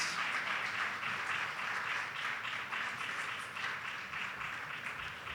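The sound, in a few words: audience applause for a panelist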